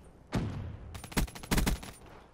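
Gunfire in Black Ops III: a single sharp shot, then two quick bursts of rapid rifle fire close together, fairly quiet overall.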